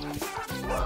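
A dog barks excitedly in a quick burst of short, high yips and whimpers, close and fairly loud.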